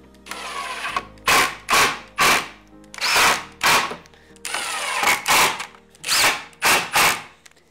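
A cordless power drill driving screws to join a wooden T-shaped jig, about nine sharp whirring bursts in quick succession, close and loud with brief pauses between them and no speech.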